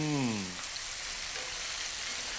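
Garlic fries in a pan of oil for paella, a steady close sizzle that runs throughout after a brief voice at the start.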